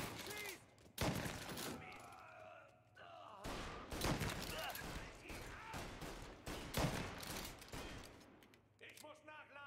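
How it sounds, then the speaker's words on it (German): Gunfire erupts in a bank-robbery shootout in the Mafia video game, with dense rapid volleys of shots and clattering impacts filling the scene while voices shout. "Auf ihn, Junge! Schieß!"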